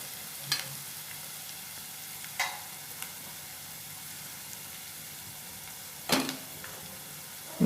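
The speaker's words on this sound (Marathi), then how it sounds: "चांगला फ्राय झाला कांदा की आपण हिरवी मिरची घालणार आहोत।" Onion sizzles steadily in a frying pan as chopped green chillies are added, a continuous moderate hiss broken by a few sharp stirring scrapes, close and alone without talk.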